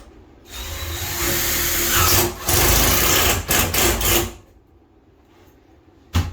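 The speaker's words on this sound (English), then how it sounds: "I'm going to put a screw on it to hold it." Power drill driving a screw into a bathtub fitting during a bathroom installation, a loud steady whirring run broken by brief stops and short bursts, ending with a final quick pulse, with no talking.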